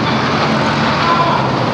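A Jamliner bus passes in steady road traffic, its engine and tyre noise forming a loud, continuous wash close by, with no breaks.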